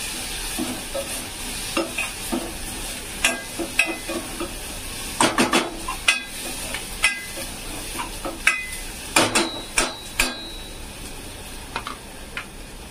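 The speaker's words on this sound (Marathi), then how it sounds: "मिक्स करून घ्यायचं" Sprouted mung beans with spices are stirred in a sizzling pan, a spoon scraping and clinking against the metal in irregular repeated strokes over a steady, close frying hiss.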